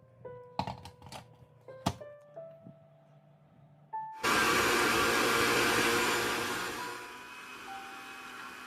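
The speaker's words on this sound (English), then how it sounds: "I blend the soup until it's perfectly smooth and silky" A blender starts up partway through, after some clicks and taps, and runs as a loud, steady whir while blending cooled homemade tomato soup until smooth, easing slightly toward the end.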